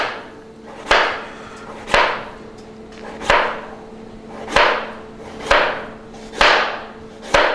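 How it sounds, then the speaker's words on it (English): A knife slices a vegetable with its skin on into thin 1/4 to 1/8 inch slices, giving eight crisp, evenly spaced cuts against a board, each a sharp tap with a short fading rasp, clear and close. "So I'm just making little 1/4 to 1/8 inch slices."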